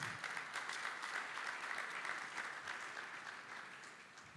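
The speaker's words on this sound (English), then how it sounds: "A round of applause, please." An audience gives a sustained round of applause for a speaker at an educational funding event, as dense, even clapping that stays steady and slightly distant before fading a little toward the end.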